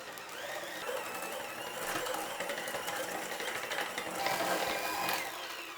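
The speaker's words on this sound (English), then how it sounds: "Now whisk the egg together with this mixture until it is well combined." An electric mixer whisks an egg into chocolate marble cake batter, a steady whirring buzz with a rattling edge that runs continuously at moderate volume.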